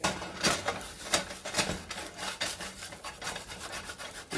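Food being scooped and scraped out of a very heavy pan holding melted cheese and omelet, a close series of rhythmic rasping scrapes and rubs, fairly faint and with no talk.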